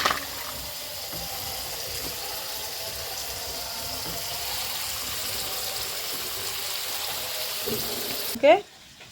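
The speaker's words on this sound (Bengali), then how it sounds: "হলুদ আর লবণ দিয়ে আলুগুলোকে আগে সুন্দর করে ভেজে নেওয়া হবে।" Potatoes fry in hot oil with turmeric and salt, a steady close sizzle and crackle that holds throughout, ending with a brief clatter near the end.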